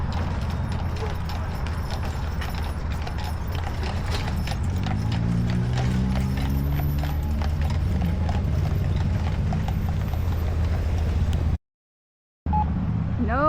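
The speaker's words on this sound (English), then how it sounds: "No better way to welcome you to Deadwood than a horse and buggy ride." Horse hooves clip-clop steadily as a horse pulls a buggy through Deadwood, South Dakota, heading toward Main Street, with a rhythmic, fairly close beat under creaking wheels and street ambience, then a brief dropout near the end.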